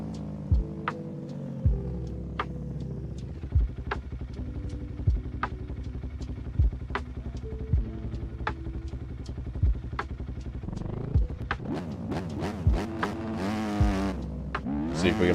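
A motocross bike engine drones in the MX Bikes racing game on the Mesquite MX track, a steady buzzing rev with regular bumps and rising throttle bursts near the end, loud and close with no talk.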